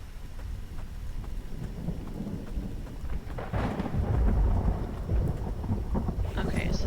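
Rain and thunder in a survival video game: a steady rainfall hiss with a low rumbling roll of thunder that swells partway through and stays loud, with no talking.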